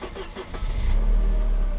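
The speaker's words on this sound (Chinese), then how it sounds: "引擎关掉，做个热车启动" A Mercedes W201 2.5-16 with a freshly repaired fuel distributor is hot-restarted at about 80 degrees, its weak-sounding starter cranking briefly before the engine catches and settles into a loud, steady run.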